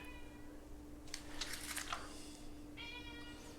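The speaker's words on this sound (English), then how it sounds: "My cat's meowing in the background" A house cat meows softly in the background in two drawn-out calls, one at the start and another near the end. Between them comes a brief rustle of page handling, all over a faint steady electrical hum.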